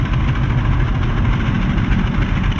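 An Antonov An-2's radial engine idles at around 1100 rpm in a PC flight simulator, a steady low rumbling drone with a constant throb and no voices.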